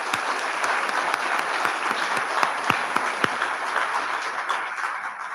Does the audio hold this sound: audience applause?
yes